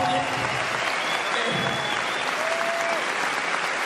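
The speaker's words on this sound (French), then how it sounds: "j'aimerais un tonnerre d'applaudissements pour Mathis" An audience claps in steady, dense applause after a speech following a film screening, loud and continuous throughout, with a few faint voices and whistles poking through.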